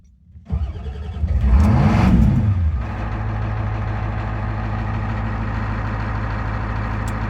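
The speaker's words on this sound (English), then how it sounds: "Put on the floor and crank it." A 1989 Ford F-350 with the 7.3 IDI diesel cranks briefly, catches and roars up loud, then settles into a steady, close, rumbling diesel idle.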